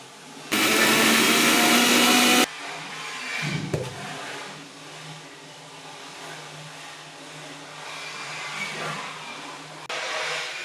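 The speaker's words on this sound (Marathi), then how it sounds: "तयार झालेले मिश्रण आपण मिक्सरच्या भांड्यात काढून त्यात कोथिंबीर आणि बारीक मीठ न वापरता खडे मीठ टाकून मिक्सरमध्ये बारीक करून घेऊ" A kitchen mixer grinder grinds roasted coconut masala with coriander and rock salt, giving a loud, steady whirring burst of about two seconds. Quieter room noise follows, then a brief second pulse near the end.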